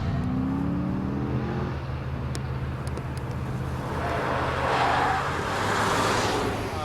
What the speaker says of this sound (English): What we're going to do next is a controlled braking exercise.